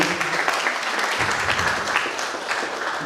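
Audience applause at an informal talk-show event, a short dense burst of clapping that stays steady and fairly close throughout.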